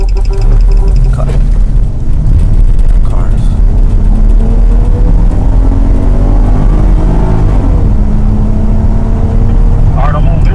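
Cars pass and accelerate at a red-light intersection, engines rising and falling in overlapping sweeps over a loud, constant traffic roar, with voices talking in the mix.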